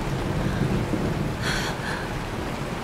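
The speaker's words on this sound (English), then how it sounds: "It's raining." Steady rain pours in Honkai Star Rail, a dense continuous hiss with low thunder rumbling underneath and a couple of brief brighter crackles midway, no speech.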